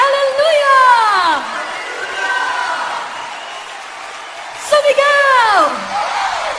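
A worship-service crowd shouts hallelujah in joyful Tagalog praise, with loud swelling cheers and whoops that rise and fall twice over steady crowd chatter.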